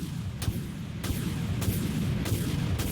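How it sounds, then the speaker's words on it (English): Torpedoes and missiles launched from a ship in the video game Dreadnought: a series of sharp launch reports at a steady pace over a constant low engine rumble, moderately loud and with no talking. "torpedoes away, missiles away"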